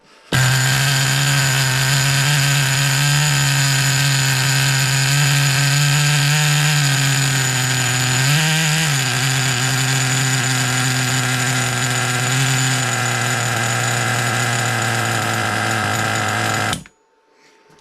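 A T2M Pirate Thunder 1/10 RC car's nitro engine idles with a loud, steady buzzing drone. It is close and alone, and the pitch shifts slightly midway before it cuts off at the end.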